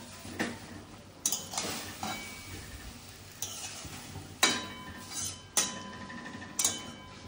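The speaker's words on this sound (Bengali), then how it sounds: "এটা একটু ভালো করে মিশিয়ে দিই।" A spoon scrapes and clinks against a pot while turmeric is stirred into a simmering jute leaf curry, with soft stirring swishes punctuated by several sharp metallic taps at irregular intervals and no talk.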